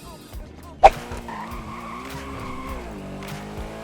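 A car in GTA V roleplay revs and skids, with a sharp tire squeal or impact near the start, then a sustained engine drone shifting in pitch; someone talks faintly over it.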